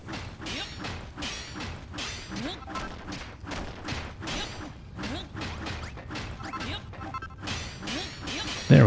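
Hammer smashing blocks in Dragon Quest Builders 2, a rapid, steady run of crunching, thwacking hits that repeat evenly for several seconds, loud and up front, with no voices.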